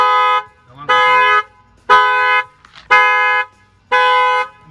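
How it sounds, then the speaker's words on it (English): An aftermarket alarm on a 2012 Nissan Maxima blares in loud, evenly spaced horn-like honks, five near blasts about a second apart with short gaps between. "Somebody opens any of the doors or they bang on the window or try to rip off the rims, the alarm will fire off"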